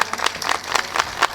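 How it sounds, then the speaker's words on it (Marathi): An audience at a Hari kirtan memorial gathering claps together in a steady, lively round of applause that fills the room. "जोरदार टाळी वाजवा"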